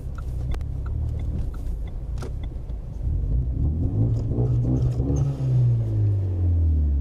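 Renault Megane 3 RS engine rumbling at idle, then rising into a louder, sustained rev that climbs and holds steady, with no voices over it.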